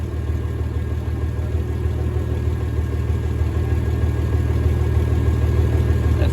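A farm tractor engine idles steadily, a continuous low rumble with even mid-range drone holding at a constant level throughout, close by and with no voices.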